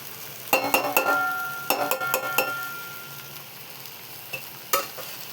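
A utensil scrapes and clinks against a frying pan in quick bursts while stirring spices, over a soft steady sizzle, close by, then a couple of isolated taps.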